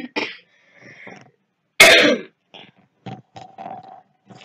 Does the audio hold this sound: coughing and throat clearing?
yes